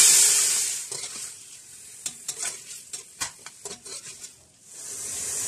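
Beef mince hitting a pan of garlic ginger paste for mince noodle kebabs: a continuous sizzle broken by a cluster of sharp spoon-and-pan clanks from stirring, then steady frying again.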